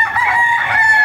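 Chickens in a hen coop on a farm, a loud, close bird call held steadily for about a second, bright and sustained, with no voices over it.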